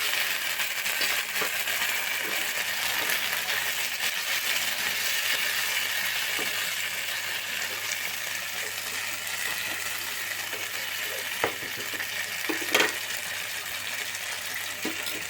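Cornflour mixture with vinegar hitting a hot wok while cooking a jackfruit dish, giving a soft, steady sizzling hiss that runs on evenly, fairly faint, with a few small clinks and no voices.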